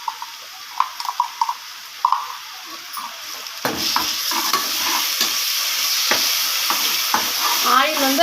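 Ginger garlic paste dropped into hot oil with softened onions for a vegetable biryani: a few quiet clinks, then a sudden loud sizzle that settles into a steady close hiss with occasional stirring scrapes.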